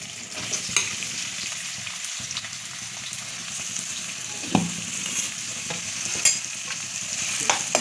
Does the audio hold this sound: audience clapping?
no